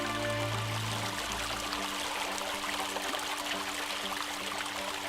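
Composed film score for a nature documentary evoking water, with sustained low tonal pads fading early, then a dense shimmering trickle of droplet-like sounds running steadily throughout at moderate level.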